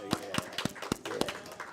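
A church congregation claps for a departing deacon, but only a handful of separate, fairly quiet claps come through, spaced unevenly over a second or two.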